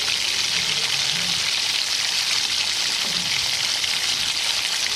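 Cumin, mustard seeds and curry leaves in hot oil give a steady, close spitting sizzle with a bright crackling texture, constant throughout, with a faint low murmur underneath.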